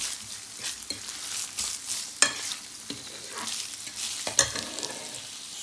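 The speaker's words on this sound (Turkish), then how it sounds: "Kavrulmuş olan kıymamın içerisine soğanımı alıyorum." Minced meat fried in a pan with chopped onion stirred in, a steady sizzle broken by repeated close scraping strokes of a spoon, with no talk.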